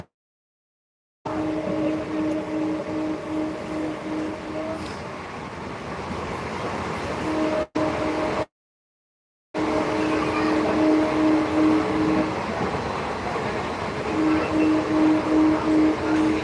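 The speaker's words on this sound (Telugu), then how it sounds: "నిజామాబాద్ పోతున్నా ట్రైన్లో కామారెడ్డి టు నిజామాబాద్" The inside of a moving train between Kamareddy and Nizamabad gives a loud, steady rumble with rhythmic wheel beats and a tonal hum, broken by a couple of short dropouts.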